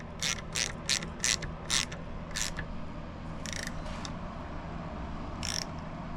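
A ratchet tightens a grease nipple on the front hub of a 1964 Mini Cooper S. A run of sharp metallic clicks comes in quick bursts up close, followed by a few scattered clicks over a quiet workshop background.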